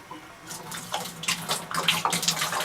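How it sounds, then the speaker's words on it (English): Tap water splashing while bottles are rinsed, a continuous uneven gush and spatter that swells and varies, close and fairly loud with no talking. "I'm going to first rinse with water. Common tap water will do."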